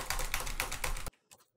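Rapid keyboard typing mixed with mouse clicks, picked up on a Rode NT-USB microphone; a dense, steady clatter of keystrokes that stops abruptly, followed by a couple of faint isolated clicks.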